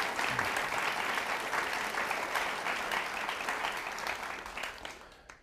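An audience applauds a guest welcome at a forum event, a dense, sustained clapping roar that holds steady for several seconds before tapering off at the end.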